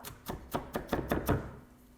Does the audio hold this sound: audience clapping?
no